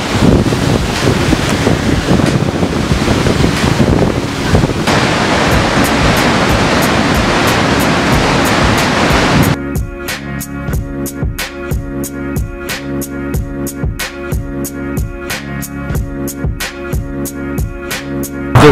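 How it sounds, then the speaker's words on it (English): Water rushes over the top of a waterfall on Iceland's Golden Circle, a loud, continuous broadband roar mixed with wind buffeting. About halfway through it cuts away to a rhythmic, ticking beat. "This is where the water starts running off to get down to where you saw it."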